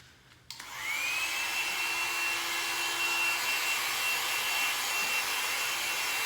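A handheld dryer blows on acrylic pour paint over a flower pot, switching on with a click and settling into a steady, loud whooshing hum that runs unbroken for several seconds.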